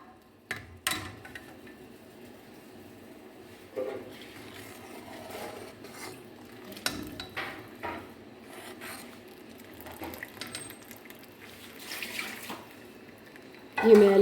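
Scum is skimmed off sugarcane juice boiling in a village kitchen in Punjab, with faint bubbling under scattered scraping and clinking of a ladle against the pot, soft and intermittent, ending with a louder clatter.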